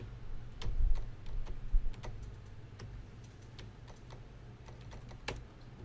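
Typing on a computer keyboard while searching for brushes, a scattered run of light, crisp key clicks at an uneven pace, fairly faint over a low background hum.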